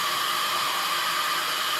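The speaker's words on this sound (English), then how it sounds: "Oops, I forgot to turn on the vacuum there." A workshop vacuum runs to collect sawdust while window valances are cut for a bedroom woodworking project, giving a steady, loud, unbroken rushing roar with no talking.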